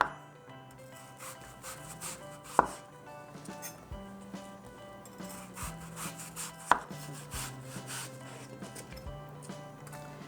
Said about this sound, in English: Next step is to slice the apples into 1/4 to 1/8 thin, very thin